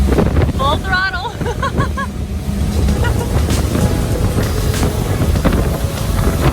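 A big block powered boat, bought broken, runs at full throttle, its engine roar buried in heavy wind buffeting and water rush, with a voice briefly sounding near the start.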